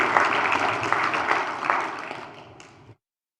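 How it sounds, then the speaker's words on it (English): An audience at a church community anniversary celebration claps for pastors, a dense steady applause with scattered loud claps that gradually thins and fades out before stopping. "Let's give our pastors a round of applause."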